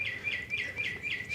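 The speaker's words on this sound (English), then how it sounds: "my bird clock is going off. It means it's on the hour." A bird clock chirps on the hour, giving a run of repeated bright tweets in a steady rhythm, moderately faint and alone in a quiet room.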